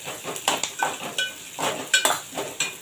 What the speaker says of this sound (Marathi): थोडेसे काजूचे तुकडे घेतलेले आहेत ते घालणार आहे, ते तेलामध्ये फ्राय करून घेणार आहे